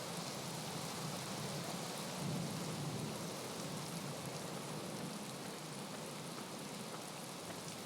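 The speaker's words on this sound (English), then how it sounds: "Morris carried the hay sacks away in time before it started to rain." Steady, dense rainfall hisses continuously in a video game scene with a low rumble of thunder rolling underneath, even and unbroken throughout.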